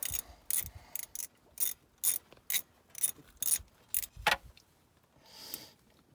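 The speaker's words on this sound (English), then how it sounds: "Currently dropping the green bolt, which is an 8mm Allen." An 8mm Allen drain bolt is worked loose from the front differential of a 2021 CFMoto Cforce 1000 with a ratchet: close, crisp ratcheting clicks in short bursts with pauses between them, then quieter metallic handling.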